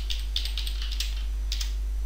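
Keys clatter on a computer keyboard as code is typed, a few quick bursts of light clicks spread across the moment, fairly close and alone, with a steady low hum beneath.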